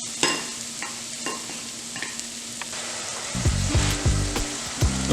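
Onions and mushrooms for pizza sauce cook in a pot, with a steady close sizzle and repeated spoon scrapes and knocks. A low tonal hum joins partway through.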